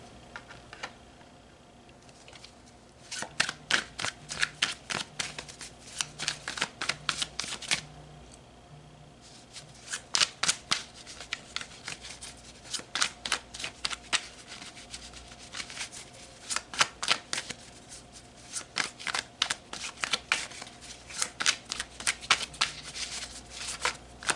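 Tarot cards are shuffled close up in bursts of quick, crisp riffles and slides, pausing briefly between rounds and resuming throughout, with no talking.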